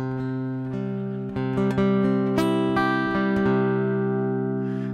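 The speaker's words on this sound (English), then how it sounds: "I got a string out of tune there." An acoustic guitar string being tuned at a live concert: sustained ringing notes with repeated plucks as the pitch is adjusted, loud and close, with no talking.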